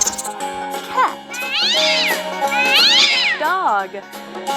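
A cartoon cat meows in a Lingokids farm-animal stacking game, two drawn-out rising-and-falling meows and a shorter third, loud and close over cheerful game music.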